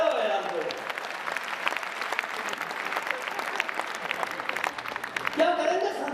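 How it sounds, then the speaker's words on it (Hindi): An audience at a Hindi comedy poetry recital applauds in a dense, continuous clatter of clapping with a voice briefly speaking at the start and end. "तालियां कम बजा रहे हो यार"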